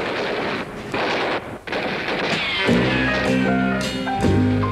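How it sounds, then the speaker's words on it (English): Submachine gun fire rendered as a comic sound effect on a novelty rock album, a loud sustained rattle of rapid shots that gives way to musical notes. "Lead-filled saps and submachine guns."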